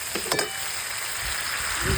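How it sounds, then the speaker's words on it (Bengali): Spice masala sizzling and frying in a hot pan for a soyabean and potato curry, a steady close crackle with a few louder stirring bursts. "নিজের মতোটা ছেড়ে রেখে একটু হালকা মশলাটা কষিয়ে নিয়ে তারপরে সয়াবিন আলুটা এর মধ্যে দিয়ে দেবো"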